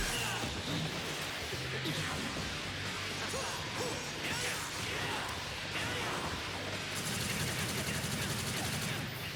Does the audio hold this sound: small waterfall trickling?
no